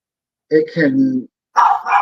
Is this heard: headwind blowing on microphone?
no